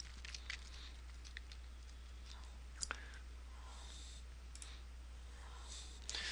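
A few faint, sparse computer mouse clicks, quiet and close, with a pair of sharper clicks near the middle over a steady low hum.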